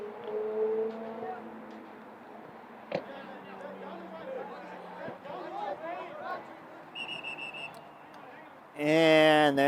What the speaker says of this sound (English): there's a whistle right before the throw-in